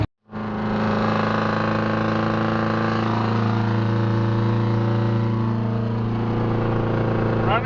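Straight-piped Detroit 8V71 two-stroke diesel in a flatdeck truck while driving, a loud steady droning exhaust roar with strong low harmonics, holding an even pitch, starting abruptly after a brief pause.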